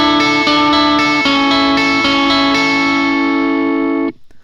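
Electric guitar run through a POD HD500X with the red compressor engaged: a loud, evenly sustained strummed chord ringing steadily with a few soft re-picks, then cut off abruptly near the end.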